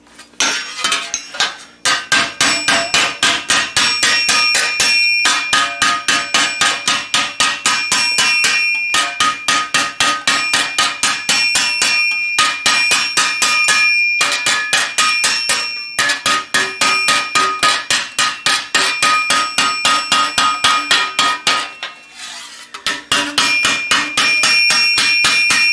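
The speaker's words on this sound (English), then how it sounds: "This hammer walking operation is giving this a very slight curve and a very tiny curve in this direction." Steel greave plate being hammer-walked to give it a slight curve: a long, loud, rapid run of bright metallic hammer strikes ringing close, with brief pauses between bursts.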